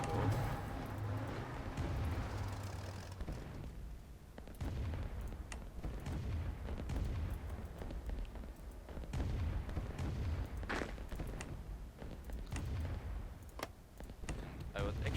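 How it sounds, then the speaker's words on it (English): Artillery fire in the Roblox Rise of Nations war game, a continuous rumble of muffled booms and bursts mixed with game sounds, steady and moderately loud throughout. "using my artillery, something I like doing a lot, playing with artillery support"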